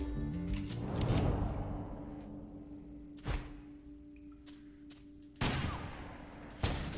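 Gunfire in the video game West of Dead: a few sharp shots, one burst near the start and single loud blasts later, over a steady game background hum with no talk.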